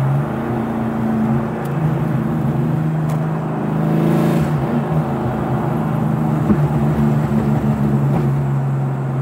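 A supercharged 2003 Ford Cobra drives through its gears over a bridge, a steady loud engine drone heard from inside the car with shifting pitch as it pulls and changes gear.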